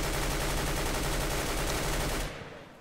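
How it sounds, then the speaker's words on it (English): An M4 rifle sprays fully automatic in the CS:GO beta, a loud, unbroken stream of close shots lasting about two seconds before cutting off into a short fading tail. "Now I'm going to show you the M4 here."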